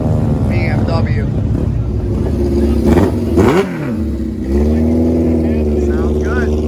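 A very rare BMW motorcycle engine revs loudly up close, with a steady drone rising and falling through a couple of throttle blips, while voices talk faintly over it.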